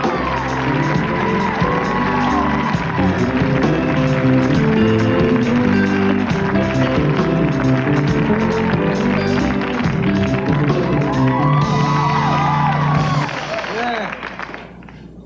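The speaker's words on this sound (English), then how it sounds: "Did screaming scare you?" A television talk-show studio audience in 1989 cheers, claps and whoops loudly and continuously for a guest's entrance, with crowd noise filling nearly the whole stretch before easing off at the end.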